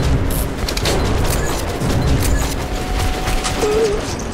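Sustained, loud gunfire and booming blasts during a frontline mission in the video game Metro: Last Light Redux, against a dense battle din with no pauses.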